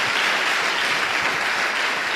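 Congregation applauding the Lord during a church service, with dense, continuous clapping at an even level throughout and no break.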